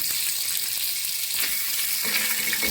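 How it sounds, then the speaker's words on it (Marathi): Crab claws fry in oil on a flat tava, a continuous bright sizzling hiss that stays loud throughout, with a faint stirring scrape partway through and no voice. "तर तेलामध्ये हे चांगलं परतून घ्यायचं आहे"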